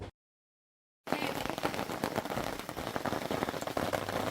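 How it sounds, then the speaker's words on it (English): Hail pelts a campsite at Rooiputs in the Kgalagadi during hot weather, a dense rapid patter of hard pellets drumming on surfaces, starting abruptly after a moment of silence and continuing loud and close. "Despite the 40-degree heat in our first afternoon at Rooiputs, we encountered hail."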